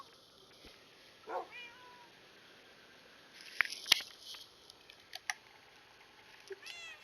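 A cat in Minecraft meows a few times, short soft calls spread through quiet game ambience with scattered clicks and blips.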